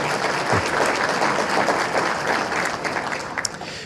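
Audience applause fills a hall during a mayor's 2017 State of the City address, a steady, dense burst of clapping from a large crowd that tapers slightly toward the end.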